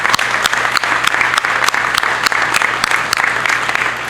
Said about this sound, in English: I'd like to give a round of applause for our first responders that are here